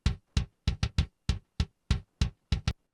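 Rock kick drum miked from inside the shell strikes about eleven times in a fast, uneven pattern, each hit punchy with a bright click and short decay, alone and close.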